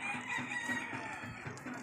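Gamecock roosters crow at a breeding farm, one short call close by over faint background noise.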